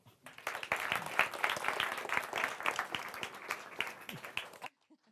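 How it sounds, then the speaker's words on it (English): A modest crowd at a business talk claps to welcome a speaker onto the stage, individual hand claps audible in an uneven, fairly close patter that builds, holds, then stops abruptly near the end. "give her a warm applause."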